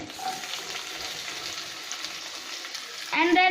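Onions and green chilies frying in a pan, a soft steady sizzle with faint stirring, ending in a brief louder burst of clatter and speech.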